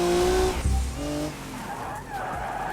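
Car tires skid and squeal while drifting in the BeamNG driving game, with a loud engine and a sustained tonal screech that shifts pitch over a few seconds.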